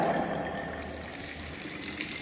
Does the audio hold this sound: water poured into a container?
yes